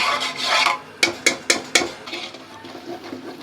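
Onion roasting in a pan while being stirred, with a rasping scrape of a spatula and four sharp, evenly spaced metallic taps against the pan, close and clear over a soft sizzle.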